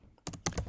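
Fast typing on a computer keyboard, a quick burst of four or five close, crisp key clicks in rapid succession, quiet and without speech.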